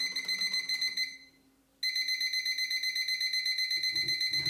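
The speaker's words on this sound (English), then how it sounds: "And then I'm going to add a timer" Kitchen timer set for a 45-minute oatmeal bake, beeping in rapid, shrill electronic pulses that pause for a moment and then resume, loud and close, with a faint clatter near the end.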